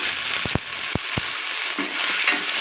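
Tomatoes and onions fry in hot oil in a kadai with a steady close sizzle, punctuated by a few sharp scraping stirs early on and softer bubbling crackles later, no voices.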